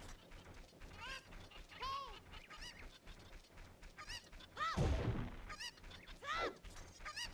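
Cuccos, the chickens in the Zelda Ocarina of Time video game, give repeated rising and falling clucks and squawks over the game's background sounds, with a louder burst near the middle.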